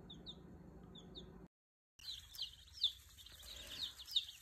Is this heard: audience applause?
no